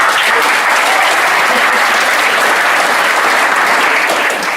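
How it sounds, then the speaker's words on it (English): A crowd at an athletics awards ceremony claps loudly and continuously, a dense, even wash of applause that holds steady and begins to taper at the very end. "Let's give them a round of applause."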